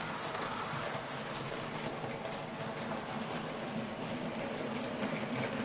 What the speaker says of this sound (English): got a nice little freight train running round.